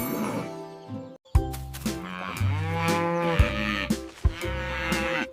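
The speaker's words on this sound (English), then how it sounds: "Cow says moo." A cow moos loudly and close, one long drawn-out low call followed by a second shorter moo, set against a quiet background.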